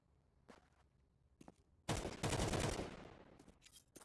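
Rapid automatic gunfire in a competitive Counter-Strike match: a few short, quiet shots, then a loud sustained burst lasting about a second before tapering into scattered final rounds.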